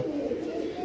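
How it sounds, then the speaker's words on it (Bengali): A pigeon coos in a low, steady, throaty tone, close by and fairly loud, held through the whole short moment with no talking. "এটা আসলে বাবু লাইনের কবুতর"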